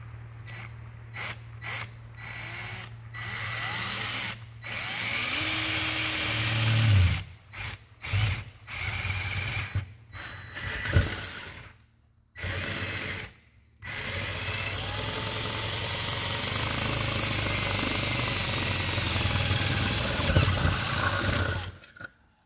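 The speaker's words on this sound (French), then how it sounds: "Pour le perçage." A power drill bores a hole, a steady close-up whine and grinding hum that runs in several bursts separated by short silences, ending with a long sustained run.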